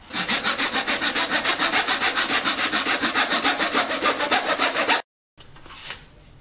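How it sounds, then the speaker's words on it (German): A handsaw rasps through a plastic kitchen sink drain pipe in fast, even back-and-forth strokes, close and loud, then stops abruptly, followed by a short rustle. "mit einer ganz normalen Fuchsschwanzsäge oder geht auch mit einer Japansäge, sägen wir jetzt einfach das Stück ab."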